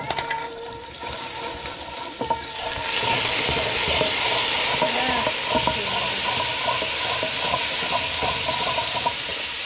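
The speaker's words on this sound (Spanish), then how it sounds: "Voy a echar un poco de aceite. Acá tengo mis ajos." Garlic sizzling in hot oil in a pan, a steady loud hiss and crackle that swells after the first few seconds and holds, with faint clinks of utensils.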